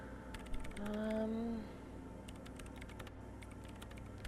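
Rapid bursts of typing on a computer keyboard in the video game Disco Elysium, quick clicky keystrokes in clusters over a soft ambient hum, with a brief tonal synth swell early on.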